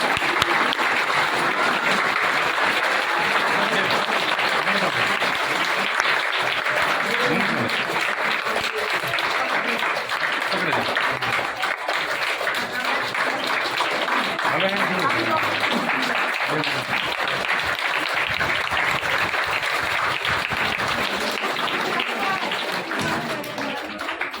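Sustained applause from a crowd of students and guests fills a school entrance ceremony, steady clapping that runs unbroken throughout while voices talk over and beneath it.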